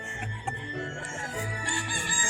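A straight-bred Colonel Givens hatch gamecock rooster crows nearby on a Georgia farm, its long strained call sounding over a steady background of other birds and farm noise.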